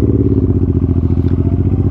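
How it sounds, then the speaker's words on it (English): A fuel-injected muscle motorcycle engine rumbles loudly and close by, with a deep, steady pulsing beat that holds even throughout. "That rumble. That throttle response, the torque at the bottom end, but that rumble is sweet."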